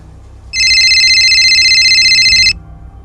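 A phone call rings unanswered: one loud, close electronic ringing tone lasting about two seconds, steady and shrill, with silence before and after.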